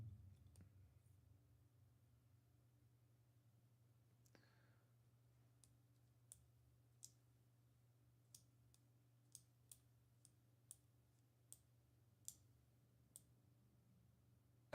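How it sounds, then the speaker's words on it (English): A prototype pen clicks about a dozen times in sharp, quiet, evenly spaced clicks against a low steady hum, with a few softer sounds before the clicking starts. "What pen have I been clicking during the live stream?"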